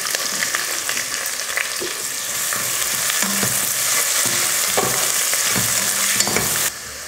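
Long-sliced onions sauté in hot oil with cloves, cardamom and cinnamon, giving a loud, steady sizzle with frequent stirring scrapes and clinks, ending with a slight drop in level, no voices.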